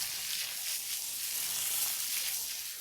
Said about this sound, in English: I'm going to carefully turn each piece over and we're going to fry it again